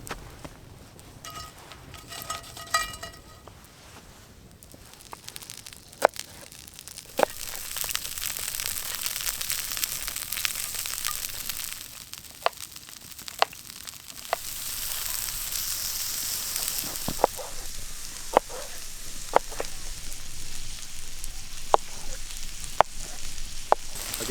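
Meatballs with potato, onion, carrot, pepper and mushrooms frying over a campfire at a winter camp, giving a hissing sizzle with frequent sharp crackles and pops, loud and close.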